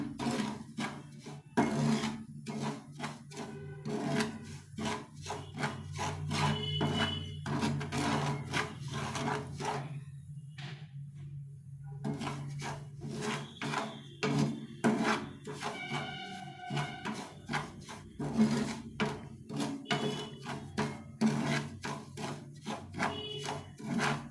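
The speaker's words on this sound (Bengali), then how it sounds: "একদম লাল লাল করে সুজিটাকে ভেজে নিতে হবে" Semolina being roasted and stirred in a pan for semolina payesh, a steady run of dry scraping and rasping strokes from the spoon against the pan, close up, with a brief pause midway.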